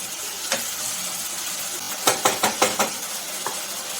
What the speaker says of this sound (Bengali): ভালো টমেটোর সাথে মশলাটা কষে নেব